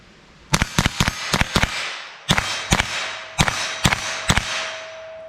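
Sharp .22 LR rifle shots firing Remington Golden Hunter hollow points outdoors, about a dozen cracks in rapid clusters of two to four, loud and close with short ringing tails.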